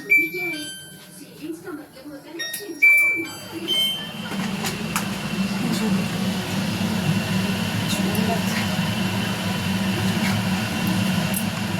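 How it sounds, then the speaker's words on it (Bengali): A kitchen chimney exhaust hood switches on and settles into a steady, droning whir that continues to the end, preceded by someone talking over quiet kitchen sounds. "এবার চিমনিটা চালাবো"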